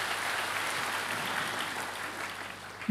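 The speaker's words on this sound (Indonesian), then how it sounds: "Beri tepuk tangan yuk buat Yesus Kristus." A church congregation applauds during a Sunday service, a steady, full wash of clapping that holds for a few seconds with no speech over it.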